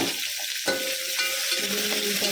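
Chopped onions sizzle steadily in an oiled pan for methi bath, a bright continuous frying hiss with faint stirring scrapes, no talk.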